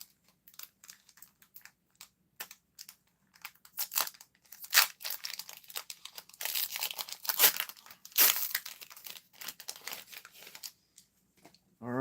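Disney Lorcana trading card booster packs from the Into the Inklands set being ripped open, with dense bursts of foil crinkling and tearing that come and go over a dozen seconds, loud and close, with no talking.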